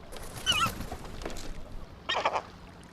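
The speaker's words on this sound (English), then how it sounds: "Seagulls." Seagulls in a car insurance commercial, two bursts of loud squawking calls, the first near the start and the second about two seconds later, with no talk.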